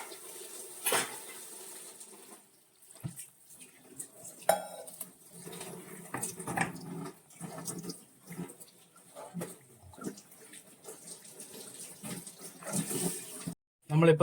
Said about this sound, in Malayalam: നമുക്കൊരല്പം വെള്ളം ഒഴിച്ചു കൊടുക്കാം.